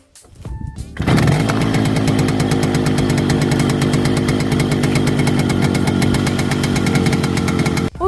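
A small motorcycle engine, just fitted with a cleaned spark plug, sputters, catches and then runs at a loud, steady, buzzing idle nearby.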